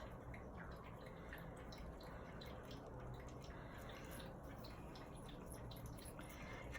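A dog laps drinking water nearby, a faint, quick wet patter of small splashes repeating steadily against a quiet indoor background.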